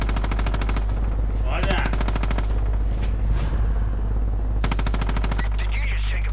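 Rapid bursts of automatic gunfire in the video game Far Cry 5, loud rattling volleys separated by short pauses, over a constant low hum with someone speaking briefly.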